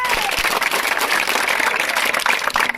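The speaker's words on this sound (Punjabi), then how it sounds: "ਇਹਨਾਂ ਦੇ ਨਾਂ ਤੇ ਵੀ ਇੱਕ ਵਾਰ ਜ਼ੋਰਦਾਰ ਤਾੜੀ ਲਾਓ" A crowd at a Punjabi gathering claps loudly and steadily, a dense continuous patter of many hands filling the space throughout, with a few sharper claps standing out near the end.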